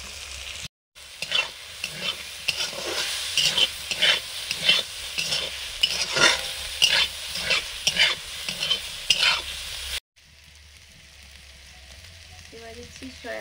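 Ginger, green chili, onion and capsicum stir-fried for egg chow, with rhythmic spatula scrapes and tosses over a steady sizzle for about ten seconds, then a quieter low sizzle after the stirring stops.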